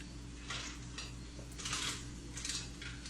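Spoons clink lightly against dishes in a home kitchen while soup with noodles is served, giving several soft, brief metallic taps over a low steady hum.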